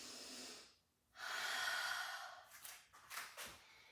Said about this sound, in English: Take one more deep breath.